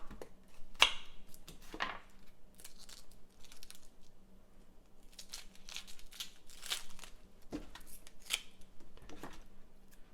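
A knife slices yellow onions on a cutting board, giving scattered soft crisp cuts and rustles at an uneven pace, close and fairly quiet.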